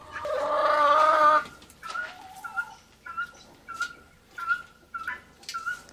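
A loud, drawn-out squawk from a hen in a chicken coop, then a series of rhythmic clucks repeating every half second or so, close by.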